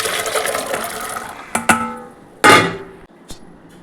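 Water pours into a pressure cooker holding soaked chickpeas for a second or so, followed by a few sharp metallic clanks and knocks as the pot is handled.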